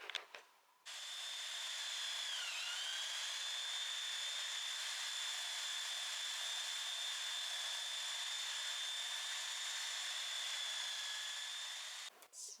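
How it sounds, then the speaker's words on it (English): A belt sander runs steadily on the top of a wooden candle holder, a loud, close whine with grinding friction that starts abruptly, holds for about eleven seconds with a brief pitch dip under load, then cuts off. "Just going to belt sand the top here"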